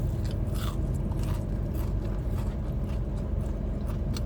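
Crunchy onion ring from Marry Brown being chewed close to the mic, with a continuous run of crisp bites and crackles over a steady low background hum, no talking.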